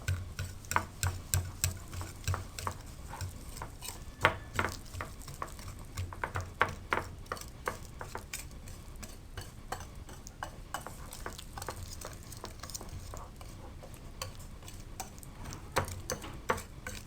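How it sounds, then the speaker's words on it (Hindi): A spoon stirs spices, black pepper and turmeric powder together for a Punjabi dal chana recipe, making quiet, irregular clicks and scrapes against the bowl that go on for a long stretch. "इनको आप अच्छी तरह से मिक्स कर लें"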